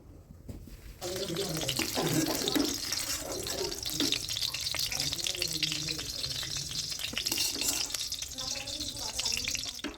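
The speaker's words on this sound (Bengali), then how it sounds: "মিক্সিটা ধুয়ে একটু জল দিয়ে দিলাম" Water running and splashing while a mixer grinder jar is rinsed, a steady close gush with sloshing and a brief quiet start, with a voice speaking over it.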